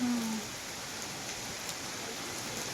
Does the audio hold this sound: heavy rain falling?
yes